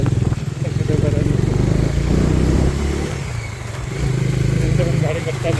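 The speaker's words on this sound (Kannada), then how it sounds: "ಒಂದು ಗಾಡಿ ಬರ್ತಾನೆ." A motorcycle or car nears on a road around Chikmagalur, its engine a steady drone that swells and eases and swells again, heard under someone talking.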